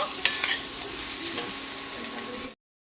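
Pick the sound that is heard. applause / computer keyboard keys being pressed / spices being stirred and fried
spices being stirred and fried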